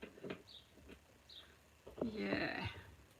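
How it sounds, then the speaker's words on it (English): Small birds singing outdoors in Scotland, a few faint high chirps and a brief warbling phrase heard indoors behind soft nearby sounds. "can you hear the birds singing?"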